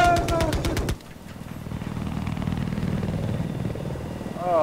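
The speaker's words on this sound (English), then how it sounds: "How's the chopper?" A helicopter in the video game Battlefield 4 gives a rapid, close rotor thump, then a steady lower whirring drone, with players talking over it.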